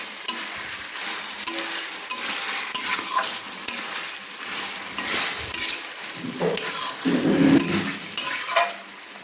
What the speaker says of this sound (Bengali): মাঝারি ফ্লেমে আমি কিন্তু ধনে বাটা দিয়ে চিকেনগুলো নেড়ে নিচ্ছি।